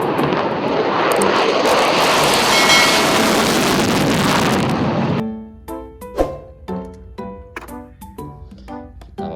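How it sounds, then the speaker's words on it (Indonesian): A loud roaring fighter jet engine rush, like an airplane passing close, lasting about five seconds before stopping abruptly, followed by sharp clicks and knocks of a toy jet being handled. "Pesawat jet tempur."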